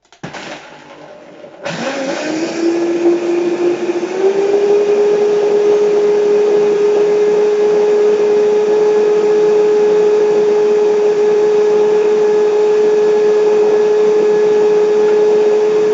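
A blender starts up loud and steady, mixing cacao drink ingredients with cold water after a short quieter whir, then holds a constant high-pitched motor whine with a churning roar for about fifteen seconds.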